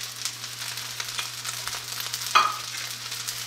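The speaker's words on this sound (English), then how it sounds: "Starting with my scrambled eggs" Scrambled eggs for fried rice sizzle in a frying pan, a continuous soft hiss with faint scraping stirs and one sharper clack near the end.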